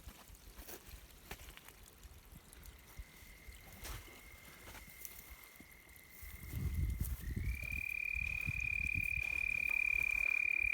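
A red-spotted toad's long, steady high trill sounds in the distance, then a louder, closer trill from a toad in the water takes over and holds, with water and low rumbling underneath.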